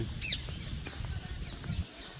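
Small birds chirp in short, scattered calls across an outdoor mini zoo and deer safari at Bir Talab, with a steady low rumble of ambient noise running underneath throughout.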